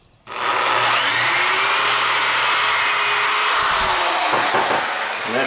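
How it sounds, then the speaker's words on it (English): A power drill with a 3/16 bit bores a center hole in a clamped workpiece for a CNC project, a loud, steady whine running for about five seconds without talk. "And then I'll just kind of drill like this."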